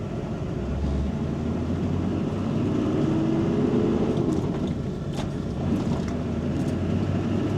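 A six-speed manual Chevrolet Silverado dually with a Duramax diesel engine, driving with a loud, constant low engine rumble and road roar heard from inside the cab, the tone rising slightly mid-way, with faint rattles and clicks on top.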